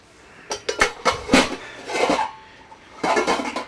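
Metal spatula clanking and scraping against pots and pans while dishing stuffed pork chops, a series of sharp close clinks and knocks in uneven bursts with a short scraping pass between.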